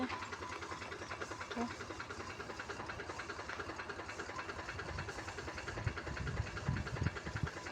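A tractor-driven pressure pump sprays pesticide on a farm with a steady mechanical drone and airy hiss running throughout, while people talk over it.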